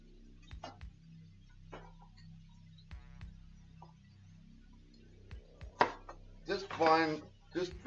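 Knife chopping onion on a board for caramelised onion relish: a few sparse, fairly quiet taps spread out, then a denser cluster of louder clinking knocks near the end, close and with no talk over it.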